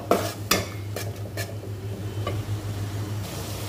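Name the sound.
spice paste being stirred and sautéed in a pan for hilsa curry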